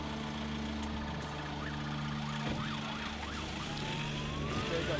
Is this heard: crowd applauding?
no